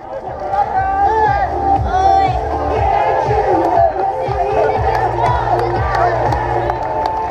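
Spectators at a half marathon finish line keep up a loud, continuous cheer of mixed shouting and whooping voices, with pattering footsteps underneath.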